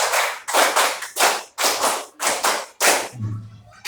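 A classroom of elementary pupils clapping together in a counted pattern, six loud unison bursts at an even rhythm, close and crisp, ending with a low murmur.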